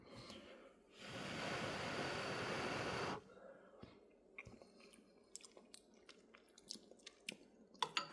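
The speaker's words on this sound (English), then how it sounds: "Let's taste these cheesy grits" Someone eats cheesy grits. Faint, close mouth clicks and soft chewing smacks come in scattered bursts after a long steady rush of background noise, and no one speaks.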